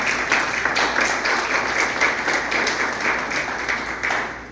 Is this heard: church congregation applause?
yes